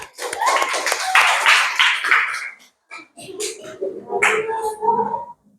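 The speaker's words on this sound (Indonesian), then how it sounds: "Nomor 1 Chelsea, nomor 2 Brili, nomor 3 Elsa, kasih tepuk tangan." A primary school class of children claps for classmates in short bursts of hand clapping, stopping briefly and then resuming, with an adult voice speaking near the end.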